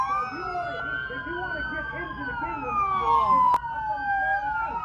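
A police siren wails steadily during police activity on Los Angeles streets, its rising and falling tone sustained over traffic rumble, fairly loud and continuous, with a brief sharp click near the end.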